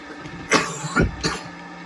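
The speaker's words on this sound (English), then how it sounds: "Excuse me for the cough." Someone commentating a NASCAR Daytona 500 video game coughs three times in quick succession, close to the microphone, with a short gap before the last, softer cough.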